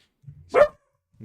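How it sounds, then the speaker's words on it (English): A pet dog sitting in someone's lap indoors lets out one short, sharp bark, with a low grumble just before it and again shortly after. "The dog's gonna be barking for a minute."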